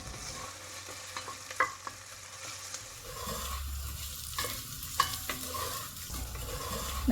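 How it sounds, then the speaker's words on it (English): Onions sizzle and fry in a pan with garlic, punctuated by a few clear scrapes and clinks of a spoon stirring them, steady and close with no voices. "Now let's put the onions in it and stir it until it goes a bit softer or caramelized"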